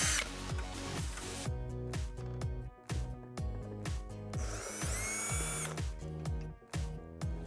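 Cordless drill fitted with a Phillips bit backing out the screws holding a stock fog light housing on a Jeep Wrangler JK, a rapid series of short whirring bursts and ratcheting clicks, close and loud, with no talking.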